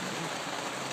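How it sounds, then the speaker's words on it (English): Steady broadband hiss of rain falling outside, a continuous close wash with no distinct drops standing out, heard alone for about a second. "He does not like rain either."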